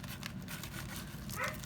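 Dog barking faintly in the background of a home sewing room, quiet repeated yips under low room noise.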